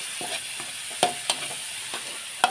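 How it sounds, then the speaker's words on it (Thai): Roasted chili paste is stir-fried in a pan for a Thai tom yum, giving a steady close sizzle broken by a few sharp scraping clicks of the spatula. "การผัดพริกเผา"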